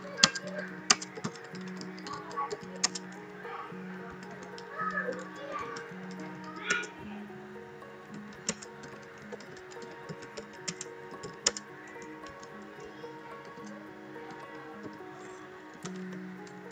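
Code being typed on a computer keyboard, irregular bursts of light key clicks and taps throughout, close and moderately quiet over a faint steady background hum, with no talking.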